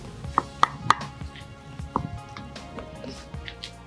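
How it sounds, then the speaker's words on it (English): Kienyeji mukimo being mashed in a pot gives a few sharp knocks and soft squishy thuds, irregular and close, with no talking. "All you need to do is to mash."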